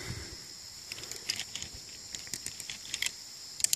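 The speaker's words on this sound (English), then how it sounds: "you can hear the clicking sound on this" A CMC MPD tree climbing device clicks into place, a series of small, sharp, irregular clicks close by, fairly faint against quiet background noise with no talking.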